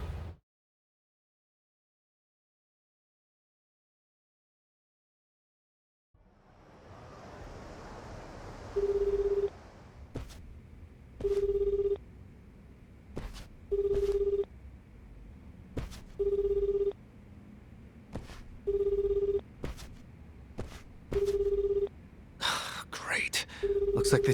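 In Like a Dragon: Infinite Wealth, a phone call rings out as a repeating series of evenly spaced electronic tones after a short silence, sounding over faint background ambience with brief breathy voices near the end.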